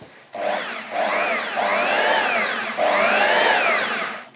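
Old Makita power tool motor revving up and down in several smooth, loud whirring surges with rising and falling pitch, close up and with no talk.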